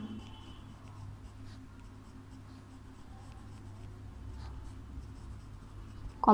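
A teacher writes multiples of 7 during a class 4 maths lesson, producing faint, quiet scratching and tapping strokes in short bursts over a low room hum, with no one speaking.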